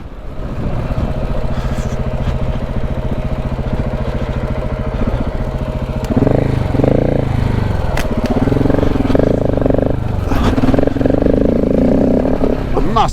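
KTM adventure motorcycle engine running steadily while riding on muddy ground, a constant mid-pitched drone that grows louder and rougher about halfway through, with a voice speaking over it.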